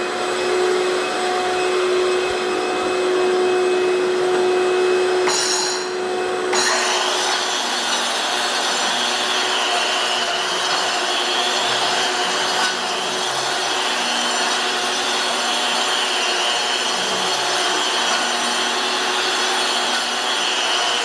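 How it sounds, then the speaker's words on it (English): A floor grinder works a concrete floor during epoxy flake prep, producing a loud, continuous whirring grind that holds steady the whole time, with a brief rattling scrape partway through. "So using this machine is really straightforward to use. You can grind the floor"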